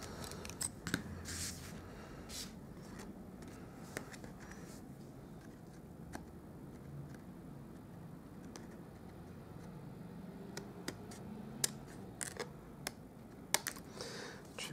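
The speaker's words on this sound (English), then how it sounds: "And I'll trim that off on either side." Scissors trimming excess paper off the sides of a handmade Stampin' Up! Christmas card, with faint, sparse snips and light paper rustles over a quiet room.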